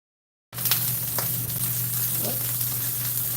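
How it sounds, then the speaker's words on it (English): Food hits a hot frying pan with a sudden onset, then sizzles and crackles steadily and loudly, with a few pops and a low hum in the background. "a lot of sizzle."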